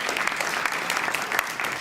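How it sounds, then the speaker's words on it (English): Short burst of dense audience clapping at a school kick-off gathering, loud and continuous for under two seconds with no voice on top. "Give yourself a round of applause."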